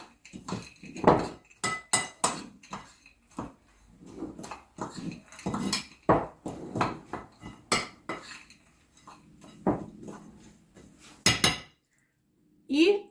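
A spoon stirs and scrapes around a bowl of eggs, sifted flour and sugar for Kyiv cake, with repeated close clinks and knocks of metal against the dish in an uneven rhythm.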